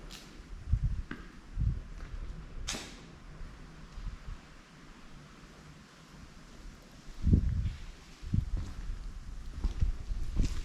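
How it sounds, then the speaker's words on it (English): Strong gusty wind outdoors at an abandoned school buffets the microphone with low rumbling bursts, rising and falling in irregular gusts over a faint rustling background. "It is very windy out"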